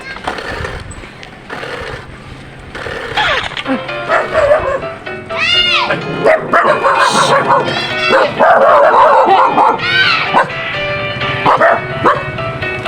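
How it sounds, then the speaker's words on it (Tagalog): A dog chasing a cyclist barks and yips repeatedly, close and loud, with whimpering in between while people talk excitedly over it. "Gobi, tinaban ako sa aso"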